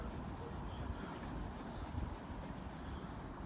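Toothpaste is rubbed onto rust-stained glass, making a steady, close scrubbing rasp of repeated back-and-forth strokes that carries on evenly with no talking.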